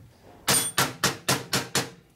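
Six sharp, evenly spaced metallic hammer blows on a 1942 Harley-Davidson WLC/WLA 45 ci transmission part during reassembly, loud and close with no talking.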